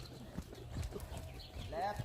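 Hooves of a horse clip-clop on an arena surface during a riding lesson, with a few soft, uneven steps close by over a steady background.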